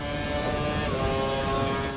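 A Formula One race car in F1 2012 speeds down a straight at the Shanghai Chinese Grand Prix, its engine a steady, loud, unbroken high drone.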